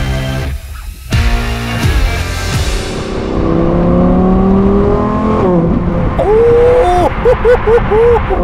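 A Lamborghini Huracan GT3 with a 5.2 litre naturally aspirated V10 revs up close, its engine note climbing through several sweeping rises and then warbling in short bursts near the end.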